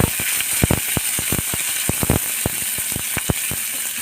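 Onions and green chillies fry in a pan for a jowar kozhukattai, the sizzle carrying a steady hiss with a quick run of sharp clicks and taps close by, with no voices.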